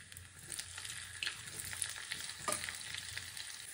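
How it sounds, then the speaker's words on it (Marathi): Hot ghee sizzles as cumin, asafoetida and green chili go in for a tempering, a steady crackling fry with brief bursts of sharper spitting, close and fairly soft, with no voices. "हिंग आणि हिरवी मिरचीची फोडणी करायची"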